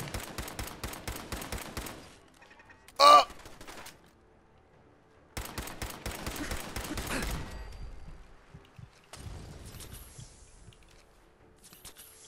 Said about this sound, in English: why are you shooting at the police?